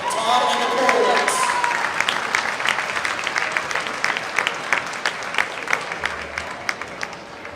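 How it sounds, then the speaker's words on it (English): Applause from the crowd at a high school wrestling meet rings through the gym. A dense burst of clapping thins into scattered, distinct claps that fade gradually as a voice speaks briefly near the start. "Let's please give a round of applause"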